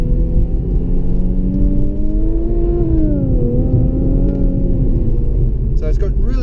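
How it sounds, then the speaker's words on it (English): A 2017 Infiniti Q50 Red Sport 3.0 twin-turbo engine revs up steadily from inside the cabin, its pitch climbing, dipping briefly at a shift into second, then rising again over a low road rumble. "But let's see how that engine goes"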